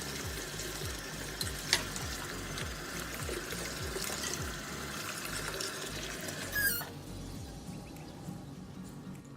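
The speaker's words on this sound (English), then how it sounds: "turn on your water and just rinse them off and rinse them out" Tap water runs steadily over stainless steel straws being rinsed in a sink, a close continuous rush that briefly splashes and then drops to a quieter flow near the end.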